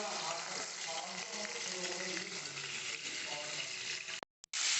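Hilsa fish heads and tail pieces fry in hot oil with a continuous crackling sizzle, fairly loud and even, before the sound cuts out briefly near the end.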